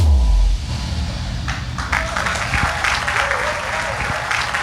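Audience applause fills the hall at the NRJ Antilles 2025 awards ceremony, a steady wash of clapping after a loud musical ending, with a brief louder swell near the start and no talking.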